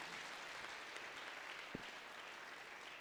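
Church congregation clapping at a lively worship service, a steady dense wash of applause with one sharper clap standing out, fairly faint and distant, with no talk over it.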